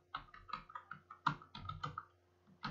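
Fingers tap out short words on a computer keyboard, a quick, irregular series of close, crisp key clicks with brief pauses between bursts.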